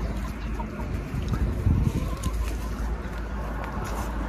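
Young rooster and hens in a village yard, soft clucking and low fowl calls amid outdoor background noise, with a slightly louder flurry near the middle.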